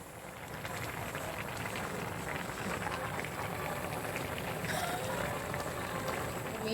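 Fish curry simmering at a rolling boil in a pot, heard close as a steady dense bubbling and hiss that continues throughout with no talk over it.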